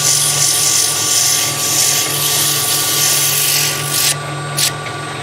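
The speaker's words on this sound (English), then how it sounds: "One last final sanding before I part that off" Sandpaper held against a wood piece spinning on a lathe gives a loud, steady high-pitched whirring hiss over the motor's constant hum, then drops back to the motor alone near the end.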